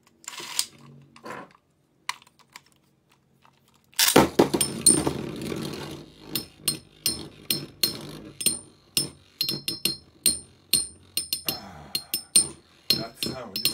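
Beyblade Metal Fight metal tops clash in battle, with a burst of scraping and grinding followed by a rapid series of sharp metallic clinks and taps, close and fairly loud, with no talking over the action.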